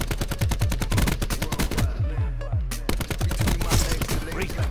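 ICR-7 rifle fire in Black Ops 4, rapid close bursts of sharp cracks with a brief pause between strings of shots, loud and punchy, with faint voices underneath.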